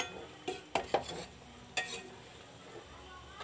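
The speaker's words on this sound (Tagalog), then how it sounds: "haluin na lang siya ng konti." Pork steak is stirred in a pan with a few clanking utensil scrapes and knocks against the metal over a faint sizzle, quiet and close, with long quiet gaps between strokes.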